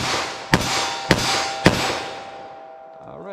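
Three sharp, loud shots crack from a .38 Special+P snub-nose revolver firing Magtech SJHP rounds, spaced about half a second apart with a ringing tail after each, then quiet.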